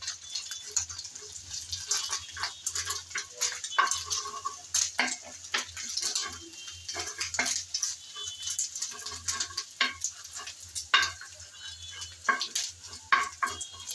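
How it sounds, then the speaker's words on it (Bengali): A ladle repeatedly scrapes and taps against a pan as it breaks up a setting egg, producing a steady run of light clicks and scrapes over a faint sizzle throughout. "তখন এভাবে করে হাতার সাহায্যে ভেঙে ভেঙে দিতে হবে।"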